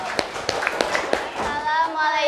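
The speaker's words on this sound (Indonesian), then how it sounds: "Beri tepuk tangan untuk kelompok B." Children in a classroom clap for a group coming to the front, a handful of separate claps in a loose rhythm mixed with young voices, then a voice alone near the end.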